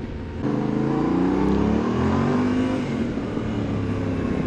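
A Yamaha Ténéré 700 motorcycle engine revs up close, a rising, throaty drone that swells after a short quiet start and then eases off slightly.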